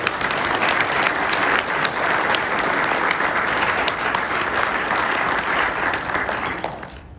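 An awards ceremony crowd at the Kenosha County Sheriff's Office breaks into steady, dense applause for Sergeant Sanchez, filling the room evenly for about seven seconds before thinning out at the very end.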